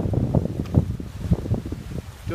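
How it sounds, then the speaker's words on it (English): Wind blowing outdoors at a roadside running race in Japan, gusty buffeting rumble across the microphone with no speech. "but it's windy."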